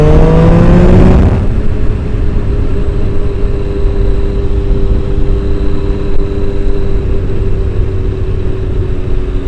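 Triumph Daytona T595 motorcycle engine revving hard during an overtake, a loud rising howl in the first second settling into a steady, strong drone of engine and rushing wind.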